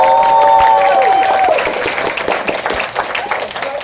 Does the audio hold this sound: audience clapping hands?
yes